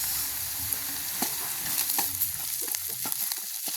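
Onions and pepper sizzle in a pan as a spoon stirs them for an egg roll filling, close and steady, with several sharp scraping clicks from the utensil and no speech.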